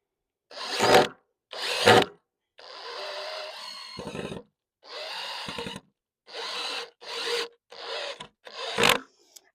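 Cordless battery drill driving screws into wood while building a raised bed, heard as several short, loud whirring bursts with brief pauses and a few longer runs, close by.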